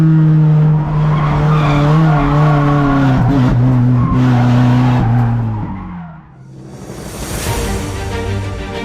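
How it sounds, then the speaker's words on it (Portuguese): A front-wheel-drive car skids through a corner with its rear sliding out, giving a loud, sustained tire squeal with wavering pitch over engine roar that fades briefly, then swells again. "Tenho um carro com tração dianteira e ele saiu de traseira na curva."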